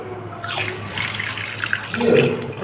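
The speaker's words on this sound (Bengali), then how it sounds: "তো চিকেনটাকে আমি ধুয়ে নিই ফটফট করে।" Raw chicken, about 600 grams, rinsed under a running kitchen tap, with a steady wash of splashing water and a brief louder gush toward the end, no talking.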